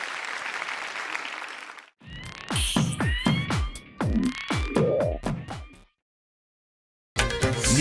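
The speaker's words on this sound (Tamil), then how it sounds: "பெரிய கைத்தட்டல்" A studio audience at the Super Singer 5 TV singing show applauds loudly for about two seconds, then other sounds take over, and the clapping returns briefly at the end.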